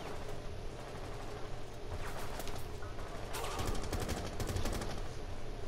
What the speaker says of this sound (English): We're getting shot at, boys.